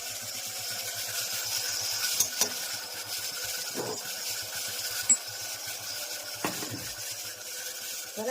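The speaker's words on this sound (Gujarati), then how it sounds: "મજાનો ટમેટાનો વઘાર થઈ ગયો છે" Tomatoes tempering in a pan with chutney and coriander-cumin powder for a Gujarati pea curry, sizzling steadily while a spoon stirs and scrapes, with a few sharp clinks against the pan and no talking.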